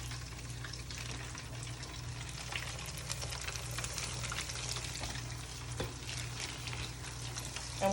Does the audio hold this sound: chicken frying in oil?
yes